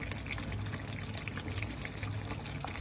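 Hot water poured into a chicken curry with potatoes, a continuous close splashing pour that stays even for a few seconds, with no talking.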